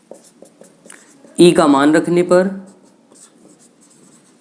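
A pen or chalk writes out a physics equation during a class lesson; faint scratchy strokes come before and after a brief burst of someone speaking.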